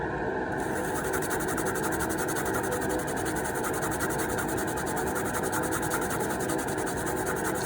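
An NES console is scrubbed with 99.9% rubbing alcohol, producing a continuous, close, fairly quiet rasping rub that keeps an even, unbroken texture throughout.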